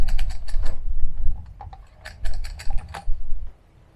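A ratchet tensioner winds up poly braid electric fence wire, giving bursts of close, loud ratcheting clicks and mechanical rattles in uneven runs, pausing briefly before a final cluster of turns.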